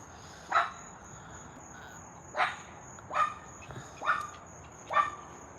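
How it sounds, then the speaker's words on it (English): A dog barks at some distance, five short separate barks with irregular gaps, against a faint steady outdoor hum of insects. "What you screaming, barking at?"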